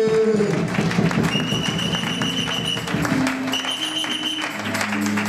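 A church congregation at a seminary service claps and cheers to acclaim God, steady rhythmic applause with crowd voices and some music throughout.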